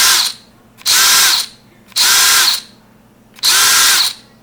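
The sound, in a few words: cordless drill running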